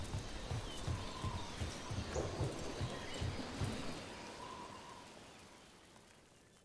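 Steady rain falls in the fantasy video game Dragon Age: The Veilguard, a dense, even hiss with a soft rhythmic thudding like footsteps in the first half, then fading gradually toward the end.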